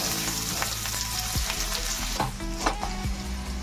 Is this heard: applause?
no